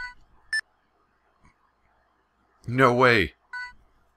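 Phone sounds in the video game Trauma Center: Second Opinion, short electronic tones and beeps in sparse bursts around a brief spoken exclamation.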